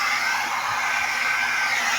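A hair blower roars in a steady, loud, unbroken hiss as it dries the fur of Bella, a chow chow puppy, with no voices.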